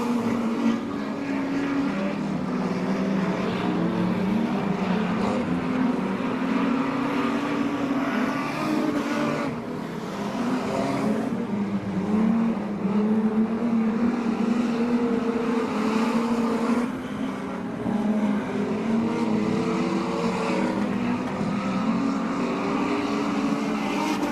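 Street stock race cars roar around the Laang Speedway oval, a constant loud engine drone with engines swelling and fading as cars pass the main straight.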